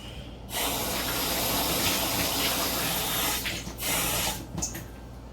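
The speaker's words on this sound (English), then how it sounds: "and then I'm gonna add about a cup of water to that." Water poured from a cup into a pot holding dry mushroom and onion soup mix, a steady splashing gush lasting about four seconds with a brief break and a short final trickle, close and alone.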